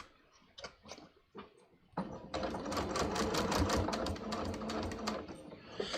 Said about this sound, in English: So now I'm just going to sew this straight across.